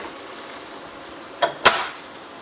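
Garlic, broccoli stalks, chopped potato and grated carrot fry in a pan with a steady soft sizzle, broken by two short scraping stirs near the end.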